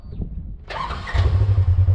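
A 2015 Polaris RZR XP 4 1000 side-by-side engine starting up: a brief starter crank, then the engine catches and settles into a loud, throbbing idle close by.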